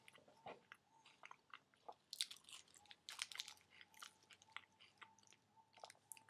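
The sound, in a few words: chewing a raw date wrap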